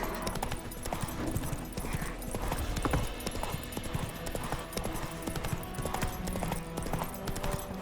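Roach the horse from The Witcher 3 gallops in a steady, rhythmic clip-clop of hooves, with an occasional faint whinny under busy game ambience and no speech.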